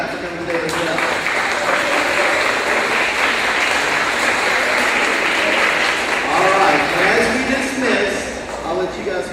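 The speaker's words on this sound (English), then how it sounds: "Let's give them a hand clap for coming today as well." Families at a school graduation ceremony receive sustained, loud hand-clapping from the children and guests, an even roar of applause lasting several seconds with voices mixed in underneath.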